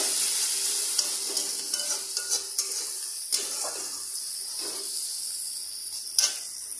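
Large green chillies fry in an oil-filled pan, giving a continuous bright sizzle broken by a few sharp spatula clicks and scrapes as they are stirred. No one speaks.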